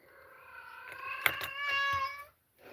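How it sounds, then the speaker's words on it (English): A pet cat gives a long, drawn-out meow with a tonal, wavering pitch, close and fairly clear, followed by a brief pause and a faint bump at the end. "There's my cat."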